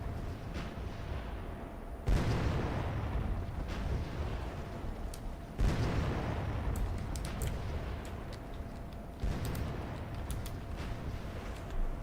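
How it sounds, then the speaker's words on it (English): Heavy 5-inch naval guns fire in a video game battle, three loud booming blasts roughly three and a half seconds apart, each rolling into a long rumbling decay, with faint crackling debris between them. "Getting wrecked by 5-inch guns in this bad boy."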